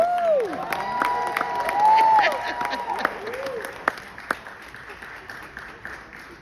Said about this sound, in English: Continue to give this very inspiring woman a round of applause.